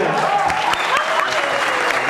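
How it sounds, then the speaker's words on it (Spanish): Audience applause at a live Colombian folk music concert, dense steady clapping from a crowd with some voices mixed in, loud and sustained throughout. "un aplauso para la gente."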